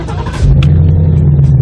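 An American car's 5-litre engine fires up, starting with a quick cranking burst and settling into a loud, deep, rumbling idle, heard close and alone.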